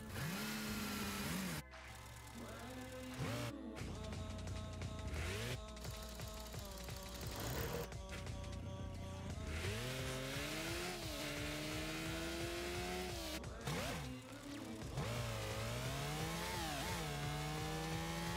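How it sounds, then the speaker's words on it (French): A car engine in the Rocket League video game revs up and down in smooth, continuous sweeps. It stays loud and close throughout, with brief dips and no speech. "Ah, le bruit du moteur!"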